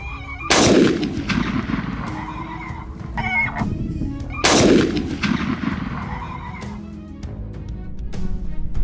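Hunters fire at a herd of wild boars outdoors: two loud, close gunshots several seconds apart, each with a long booming decay, and faint rustling and scattered clicks in between.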